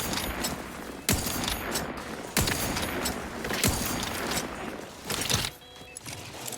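Video game gunfire rings out in sharp, loud bursts about every second or so, with rapid crackling shots and a dense noisy battle bed running continuously between the louder reports.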